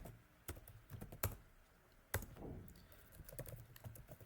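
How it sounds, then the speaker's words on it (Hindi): Python code being typed on a computer keyboard: close, quiet, irregular key clicks with a few sharper, louder strikes, heard alone without any talking. "अब मैं केस लिखता हूं, if name is equal to Amrit"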